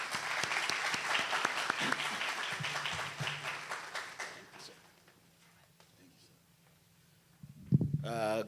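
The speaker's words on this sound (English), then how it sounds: "Let's give him a round of applause, please." Conference audience applauding a speaker invited forward at an opening session, a broad burst of clapping that dies away after about four seconds into near quiet before a voice begins.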